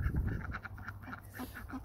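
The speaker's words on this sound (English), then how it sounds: "This is how male ducks fight." Male ducks fight in a barnyard, letting out short, raspy quacks in uneven bursts at close range, with scuffling noise at the start.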